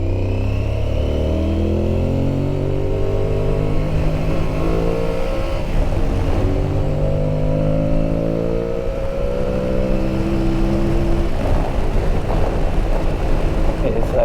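An Aprilia Tuareg 660 motorcycle accelerates hard, its engine note climbing in repeated rising sweeps broken by quick gear changes, loud and close throughout.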